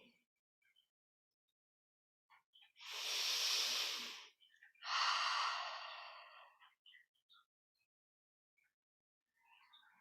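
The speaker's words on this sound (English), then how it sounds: "Breathing." Two slow, deep breaths during a yoga practice, a long airy inhale followed by a fuller, gradually fading exhale, close and soft with quiet pauses around them.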